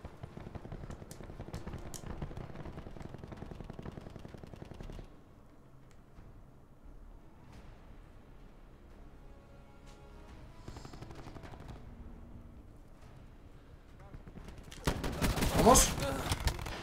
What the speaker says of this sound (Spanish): va muy bien la escopeta